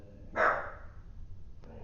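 A dog gives one short, fairly loud bark at moderate distance, followed by a faint click and quiet background hum.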